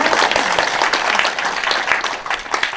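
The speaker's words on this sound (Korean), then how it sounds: "여러분 다시 한번 박수로 축하해 주시겠습니까?" A crowd claps warmly at an award ceremony for merit and appreciation awards at a Korean culture year-end tea gathering, a full, continuous burst of applause throughout.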